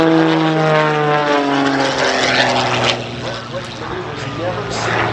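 A propeller aerobatic plane performing at the Columbus air show gives a loud, close engine drone with shifting pitch as it manoeuvres, and an announcer talks over it.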